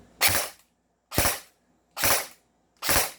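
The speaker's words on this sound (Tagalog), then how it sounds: "pag yung single fire mo, 3 putok" Four separate sharp bursts come from an M4A1 Medusa toy gun firing a programmed burst, spaced evenly about a second apart. Each is loud and close, with no talking.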